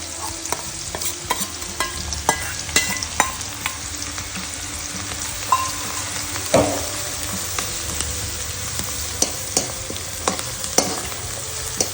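Onion frying in oil with asafoetida, a soft steady sizzle broken by frequent scraping stirs and clicks of a spoon against the pan, close and moderately quiet, with no speech.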